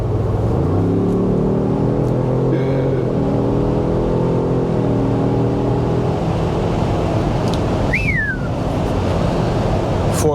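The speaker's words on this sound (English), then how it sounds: "For a big vehicle, big heavy vehicle, gets up and goes" A big, heavy Kubota utility vehicle in sport mode accelerates hard, its engine drone rising and shifting in pitch in a loud, steady roar that fills the whole stretch, with a brief high squeal near the end.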